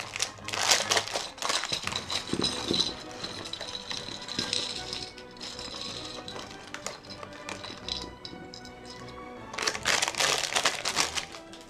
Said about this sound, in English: Pour out the pieces.